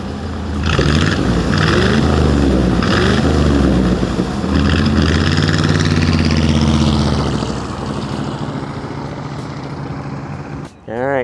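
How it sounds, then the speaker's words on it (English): A 1957 Chevy Bel Air convertible classic car rumbles loudly through its exhaust as it pulls away, the steady low engine drone thinning as it drives off, with a brief sharp noise near the end. "this thing does actually sound good out of the exhaust."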